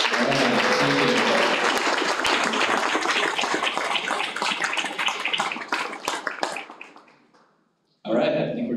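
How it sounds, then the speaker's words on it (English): Audience at a CTE signing day ceremony applauds students and their faculty, a loud burst of clapping that fades out over several seconds, followed after a brief gap by a voice speaking. "let's welcome our respective students with their faculty, and a nice round of applause"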